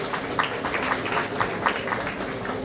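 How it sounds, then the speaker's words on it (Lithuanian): Applause at a school's last-bell ceremony: a steady, dense patter of many hands clapping from a crowd, holding an even level for the whole stretch with small swells. "Palaikom plojimais."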